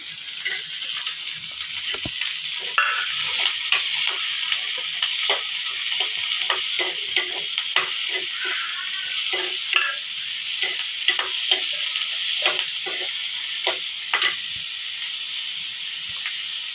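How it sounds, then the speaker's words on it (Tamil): Grated coconut, curry leaves, coriander and onion sauté in a pan with a continuous bright sizzle and hiss, broken by frequent scraping stirs of a spatula at a steady, close pace. "தேங்காய், கருவேப்பிலை, கொத்தமல்லி, வெங்காயம்லாம் லைட்டாக வதக்கணும்"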